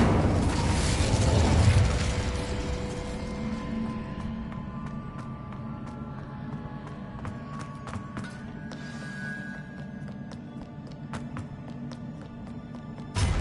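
Spell explosions from Confringo and Incendio in the video game Hogwarts Legacy: a loud fiery burst at the start, then a sustained rumbling magical blaze with scattered sharp crackles and pops.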